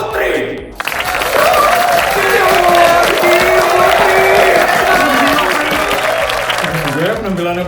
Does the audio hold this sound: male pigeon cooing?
no